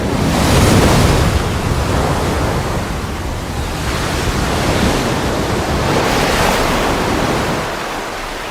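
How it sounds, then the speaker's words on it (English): Heavy ocean surf pounds a beach where newly hatched young struggle toward the sea, a continuous loud roar of breaking waves with surges and wind noise and no voices. "Many will drown in the pounding waves."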